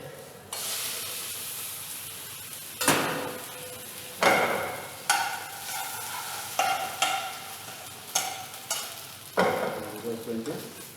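Butter and cream are stirred together in a hot pan for a French dish, a close sizzling hiss broken by repeated scraping strokes and clinks of a utensil against the pan, with no one speaking.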